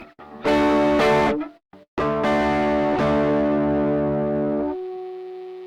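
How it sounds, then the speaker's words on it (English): Overdriven electric guitar strikes several crunchy chords, pauses briefly, then lets a final chord sustain and slowly fade into a lingering tone. The guitar is heard alone, with no talking. "And then there's overdrive."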